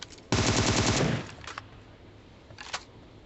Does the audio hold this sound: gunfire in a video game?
yes